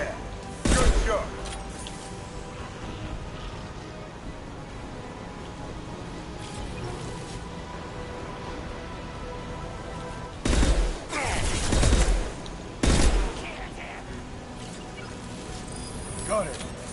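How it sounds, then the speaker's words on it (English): Gunfire from an impact shot in Mass Effect 2 cracks out as a few loud bursts, one early and a cluster near the end, over a steady game background hum. "Firing an impact shot."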